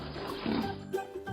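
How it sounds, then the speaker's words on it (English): A happy farm pig gives a low, rough grunting oink, short and close, over faint background noise. "Is the sound of a happy pig."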